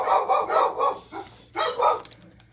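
A dog barks in a few loud, close bursts, two quick groups separated by a short pause, with no talking over it.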